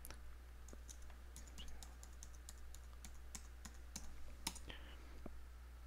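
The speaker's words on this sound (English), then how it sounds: "I'm going to put the password here, set up a password." Computer keyboard keys tapped in a quick, uneven run of close, quiet clicks while a password is entered, over a steady low hum, with no talking.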